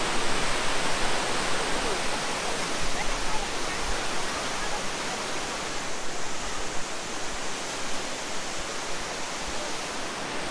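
A huge roaring waterfall seen from a viewpoint above, its dense broadband rush of water steady and loud for the whole stretch, with no voices.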